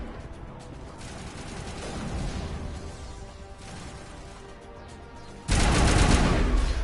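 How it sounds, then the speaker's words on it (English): A gun turret fires in Mass Effect Legendary Edition, a dense rattling burst of gunfire under a game soundscape, swelling midway, then a louder, harsher blast of shots near the end. "There must be a way to shut that gun down."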